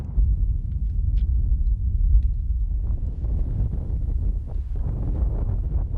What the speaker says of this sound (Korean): 바람소리 외에는 아무것도 들리지 않는 적막한 땅